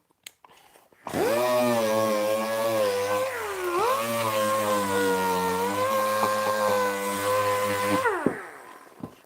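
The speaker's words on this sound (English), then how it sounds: "A little bit of sanding first." A power sander runs on wood in a wood shop, switching on with a loud steady whine that dips once under load around the middle, then cuts off and winds down at the end.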